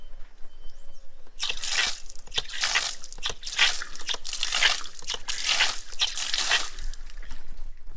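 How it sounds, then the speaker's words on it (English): Pressurised water bursts and splashes out in a broad, loud, continuous spray with wet crackling and dripping, starting after a quiet second and lasting to the end, alone without talk. "The water splash in the outside and splash water everywhere."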